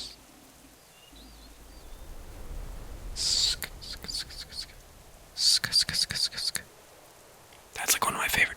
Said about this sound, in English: That's like one of my favorite triggers, the SK sound.